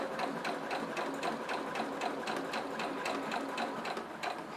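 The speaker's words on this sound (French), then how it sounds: "Je couds sur mon rectangle tout simplement. On va doucement, de façon à coudre droit." A sewing machine stitches slowly and steadily along a fabric rectangle for a shoulder bag, its needle thumping in an even, regular rhythm, close and continuous with no talking.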